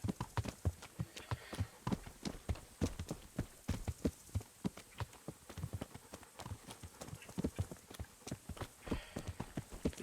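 Steady hoof clip-clops from a horse in the video game Kingdom Come: Deliverance, a brisk rhythmic clatter running continuously and fairly close, with no talking.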